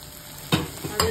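Brinjal frying in oil for a village-style prawn curry: soft sizzling with a few sharp bursts as pieces are stirred and dropped into the hot pan, heard up close with no talking.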